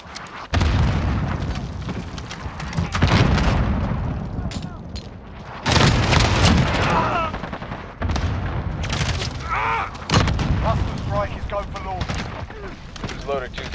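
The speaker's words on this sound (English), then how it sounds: "Allied cluster strike inbound." Cluster strike explosions in the shooter game Modern Warfare: a rapid series of heavy, booming blasts roughly every two to three seconds, each with a rumbling tail, mixed with gunfire and occasional radio chatter.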